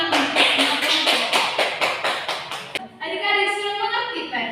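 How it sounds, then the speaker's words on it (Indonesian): A group of schoolchildren in a classroom clap together in quick, dense rhythmic bursts for about three seconds, then the clapping stops and a voice speaks briefly alone. "Kita tepuk tangan untuk semua kelompok"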